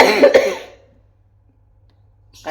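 A single woman's cough bursts out loudly at the start, then fades into near silence.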